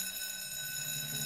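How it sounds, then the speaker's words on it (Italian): A fire station alarm in an animated cartoon sounds as a steady, continuous electronic ringing tone with a strong sustained pitch, moderately faint and unbroken, with no talk. "Allora diamo l'allarme."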